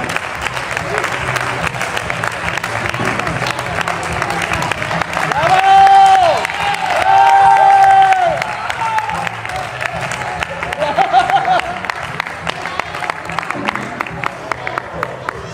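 Diners at a fellowship lunch in Alzira give a round of applause, steady clapping that swells twice near the middle, with chatter and a few raised voices mixed in.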